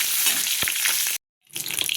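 Pointed gourd (potol) frying in oil in a pan, a close, steady sizzle with a brief stirring scrape, cutting out abruptly for a moment before the crackling frying resumes.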